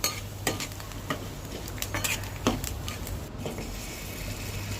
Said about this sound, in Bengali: চালগুলো ফুটছে, একটু নেড়ে চেড়ে নেব